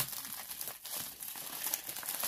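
Package being ripped open by hand, a continuous crinkling and tearing of plastic or paper wrapping, close and moderately loud, no talking.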